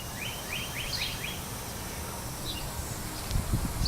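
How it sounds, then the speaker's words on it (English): Morning birdsong outdoors, several short repeated chirping phrases from small birds at a moderate distance over a steady rustling background, with a faint knock near the end. "I love getting up in the morning and hearing those birds"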